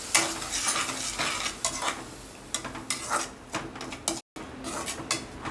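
A spoon scraping and stirring masala into softened onions frying in a pan, with irregular strokes over a steady sizzle, close and clear, briefly cutting out near the end.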